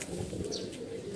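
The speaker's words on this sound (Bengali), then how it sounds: "নামতে আসছে কবুতরগুলা।" Pigeons flying in and landing: a steady, fluttering rush of wingbeats with soft coos and a thin chirp, close by and continuous.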